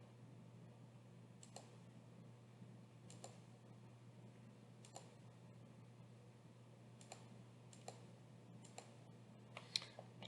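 Soft, faint computer mouse clicks come singly and in quick pairs at irregular intervals while lines are drawn in design software, over a low steady hum.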